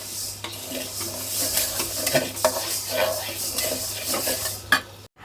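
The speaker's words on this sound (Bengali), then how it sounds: "এই ভর্তাটা অনেক নাড়াচাড়া করা লাগে, করতে করতে ভাজা ভাজা করে ফেলতে হবে" Dried fish bharta is stirred and fried in a pan, with a spoon scraping and clinking against the metal over a steady sizzle of oil, close up, ending in a sharp knock.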